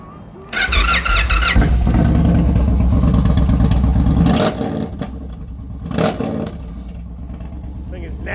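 A 2021 Indian Challenger motorcycle fitted with a Sawicki exhaust and Clockworks Lloyds tune revs hard and loud close by, a sustained roaring burst that drops off and then gives one more short blip.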